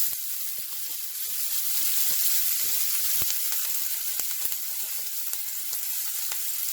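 Chopped capsicum frying in hot oil with spluttering mustard seeds and cumin makes a close, steady sizzle with scattered small pops and crackles throughout.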